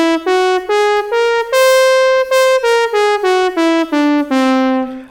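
A wind-controller EWI plays a C whole-tone scale, seven clean sustained synth notes stepping up then back down in even, separate tones, loud and alone with no talking.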